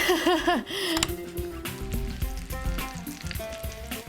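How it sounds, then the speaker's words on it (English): Loud, steady sizzling of onions frying in a hot pan for a Lebanese dish, with a few clinks of a utensil and a brief hum of voice at the start. "Love that sizzle"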